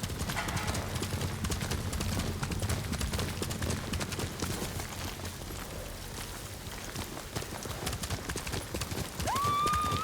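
A horse gallops in Ghost of Tsushima, steady rapid hoofbeats pounding close over rain and ambient noise, ending with a brief high whinny-like tone.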